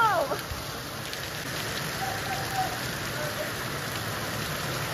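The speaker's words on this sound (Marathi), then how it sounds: "जस्ट घरी आलो आणि पाऊस परत आलाय." Rain falls steadily on surfaces near a house, a dense even patter of drops at moderate loudness that carries on without pause, with a brief faint sound near the start.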